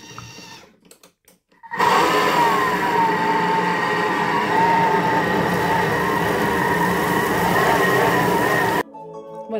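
Thermomix kitchen machine running at speed 9 while mixing cookie dough, a loud steady whirring motor roar that starts abruptly after quiet handling, holds for several seconds, then cuts off.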